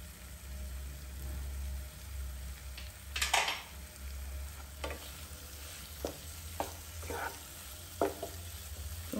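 Capsicum sizzles gently in a pan as garam masala is added, a low steady frying hiss broken by a scattering of light spoon scrapes and clinks against the pan.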